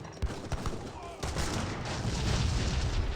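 Grenade launchers firing in an Age of Empires 3 battle, a dense continuous barrage of booms and gunfire that builds and holds loud after a sparser opening, with faint voice-like sounds mixed in.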